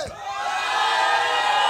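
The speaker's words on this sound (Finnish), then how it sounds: "Tämä on ihan aito alkuperäinen yleisö, mikä on täällä meillä Energin studiolla Lauttasaaressa." A live studio audience at the Energy radio studio in Lauttasaari, Helsinki, cheers and whoops continuously, a dense roar of many voices that swells and holds steady throughout.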